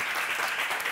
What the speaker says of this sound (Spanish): aplausos, señor